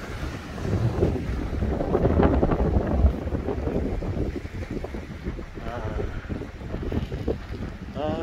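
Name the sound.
wind by the sea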